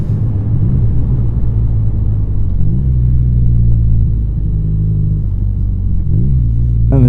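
A BMW R NineT motorcycle's engine rumbling steadily while riding, with several rising and falling pitch steps as it downshifts, loud and close throughout with no talking.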